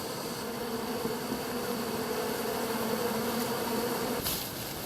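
Honeybees buzz around an active hive in a steady, unbroken drone, close and fairly even in loudness throughout, with no voices.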